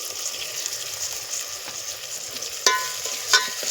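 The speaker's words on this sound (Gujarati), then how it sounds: "હવે આપણે એને ખૂબ હલાવીને ચડવા દેવાનું છે" Tomatoes and salt being stirred into rice in a frying pan for vadharela bhat, a steady sizzle throughout with a couple of sharp spoon scrapes toward the end.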